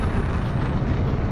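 Spaceship boost in Elite Dangerous, played on a motion simulator rig: a steady, loud, full-band roaring rush with deep rumble that holds constant throughout, with no talking.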